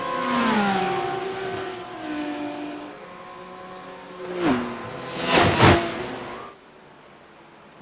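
A Porsche GT3 race car in a racing video game gives a high, revving engine whine that climbs and falls through the gears, with sharp peaks as it accelerates, then drops away near the end.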